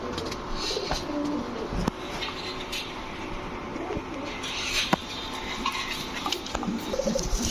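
Red checker racer pigeons coo steadily in a loft amid a busy background of other birds, with soft repeated coos close by and occasional wing flutters and knocks.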